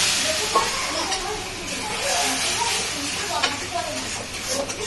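A homemade sauce poured into a hot pan while cooking soyabean chili makes a steady, loud hiss and sizzle throughout, with someone speaking over it.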